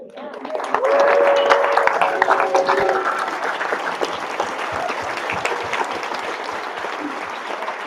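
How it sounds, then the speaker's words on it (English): Standing ovation at a junior Bay Week banquet in 2022: a loud, dense crowd applause that builds quickly, peaks early and continues steadily with scattered individual claps and some cheering. "I think Kathy Allen needs a standing ovation."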